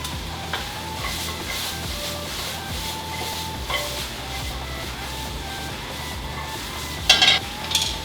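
Carrots and broccoli stir-frying in a pan, a steady close sizzle with soft scraping and stirring rubs throughout and a brief louder clatter near the end.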